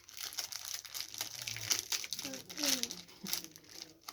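Crinkling and rustling of packaging as a surprise box is opened, with crisp crackles and tearing bursts under a child's chatter.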